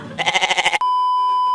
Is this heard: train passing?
no